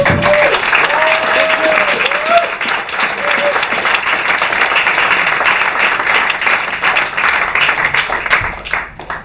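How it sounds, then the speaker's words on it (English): Warm, sustained applause from a demo-day audience, many hands clapping in a steady wash that gradually thins toward the end, with a few brief tonal chirps at the start. "I really want you to all give them a really warm hand of applause"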